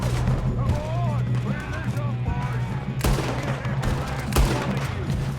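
Gunshots in the Red Dead Redemption 2 train-robbery mission, with two sharp loud cracks standing out over steady game ambience and background voices.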